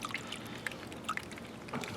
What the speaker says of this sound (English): carefully pour off the thin slurry